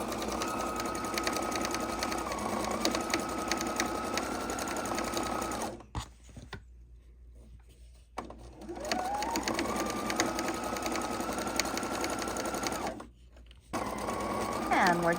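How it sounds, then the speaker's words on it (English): A sewing machine straight-stitches a fabric tote bag strap, running in long steady whirring bursts with a couple of pauses between runs, close and clear, with a voice talking over it. "And we're just going to stitch it for a beautiful final look."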